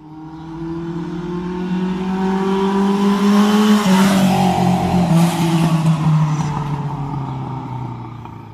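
A 2012 Honda CBR1000RR sportbike with high mileage revs up close by, its engine pitch rising steadily to a loud peak and then easing off, with no talking over it.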